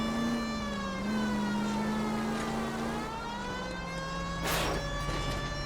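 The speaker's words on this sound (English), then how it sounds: "got my siren on, dude." A police car siren in the video game L.A. Noire rises and falls in long sweeps, loud and continuous, with a brief burst of engine or road noise near the end.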